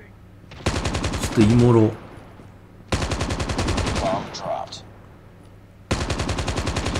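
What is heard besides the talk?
gunfire in video game Call of Duty Mobile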